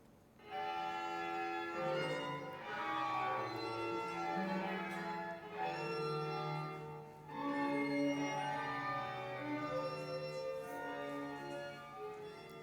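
A sustained ensemble piece with layered, harmonically rich instruments playing a slow, swelling melody, steady and full throughout with no voices.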